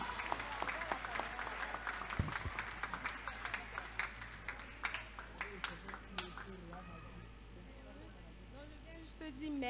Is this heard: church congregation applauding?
yes